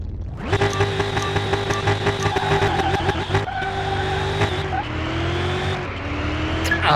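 An atomic-powered custom car's engine roars loud and close in the Car Mechanic 2021 driving game, revving up hard from the start and then easing and rising again through gear changes at high speed, reaching 190 mph.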